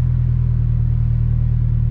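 A Subaru STI sits idling roughly, a close, loud, low rumble with a slight uneven pulse, steady and alone for a couple of seconds.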